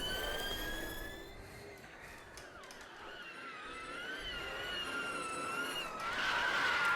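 Tires of a Ford Mustang Mach-E squealing and skidding while drifting in the RaceRoom racing game, wavering screeches over a steady engine whine, continuous for about seven seconds and fairly faint.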